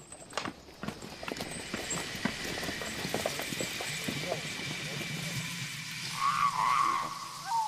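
Horses' hooves clip-clopping in an irregular, fairly close run of knocks through the first half, fading into a murmur of background noise, with other sounds briefly rising near the end.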